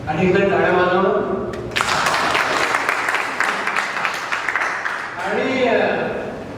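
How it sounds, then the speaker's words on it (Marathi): An audience at a Saraswat community book-launch ceremony bursts into a few seconds of dense applause, with a voice speaking before and after the clapping. "एकदा टाळ्या वाजवणं"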